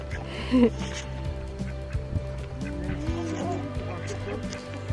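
Ducks quack and honk a few times in the background, with a short loud call near the start, while people talk over low outdoor hum.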